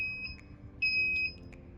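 A ship's bridge electronic alarm beeps in short high-pitched bursts during a fuse test, two tones repeating irregularly, fairly loud over a low background rumble.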